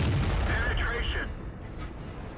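A tank's main gun fires in the World of Tanks game, with a heavy booming blast and a rumbling low tail that fades over about two seconds, the boom loud and close.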